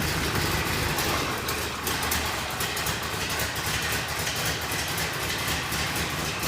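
A 1965 Chevrolet Corvette roadster idles in neutral with a steady, loud, lopey chug that holds evenly throughout, with no talking over it.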